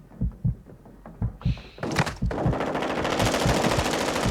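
Shotgun fire and combat in the video game Warzone 2.0 DMZ: heavy rhythmic booming shots at first, then a sudden burst into dense, rapid, continuous gunfire that stays loud to the end.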